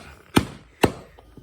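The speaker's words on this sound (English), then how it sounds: "you want to take like a rubber wooden mallet and you just want to tap it down" Two sharp, close knocks about half a second apart as a rubber mallet taps a part into place on an X-68 CO2-modded marker, followed by a faint softer tap.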